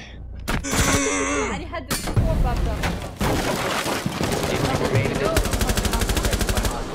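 Bursts of gunfire from the video game Rainbow Six Siege, with sharp single shots, then a rapid rattling automatic burst near the end, loud and close, with voices talking over parts of it.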